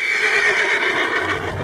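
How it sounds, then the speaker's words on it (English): A horse in Red Dead Redemption 2 gives a loud, close neigh, one shrill whinny that trails off, with a faint hoof thud at the end. "Yeah, he's a great horse,"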